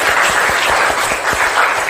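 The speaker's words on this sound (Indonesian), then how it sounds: "Ya, tepuk tangan buat Agung." A classroom of students claps for a classmate, a brief burst of close, brisk applause with a few distinct hand claps standing out, no voices over it.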